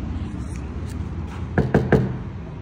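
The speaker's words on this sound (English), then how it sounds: "What you doing knocking on the door like that" Three sharp knocks on a door, close and fairly loud, rapping in quick succession over a quiet indoor background.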